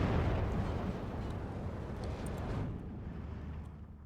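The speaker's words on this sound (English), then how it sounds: "Artillery barrage comes in" Artillery barrage in Steel Division 2, a dense, continuous rumble of distant shell impacts and booms rolling steadily for several seconds and slowly easing off toward the end.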